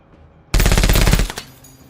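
A rapid machine-gun burst of about a dozen shots in a video game mission under heavy fire, loud and close, lasting under a second and trailing off into a short echo.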